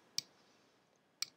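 Two crisp, isolated key presses on a computer keyboard, spaced about a second apart, each a sharp quiet click over near-silence.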